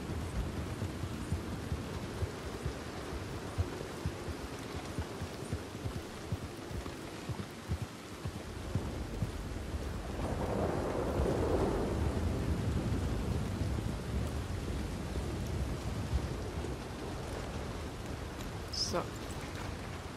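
Steady rain hiss with low rumbling thunder swelling midway in Red Dead Redemption 2, a continuous stormy wash throughout with faint bits of other sound near the end.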